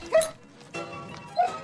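A herding dog gives two short, sharp yipping barks close by, one at the start and one near the end, with quieter whimpering sounds between them.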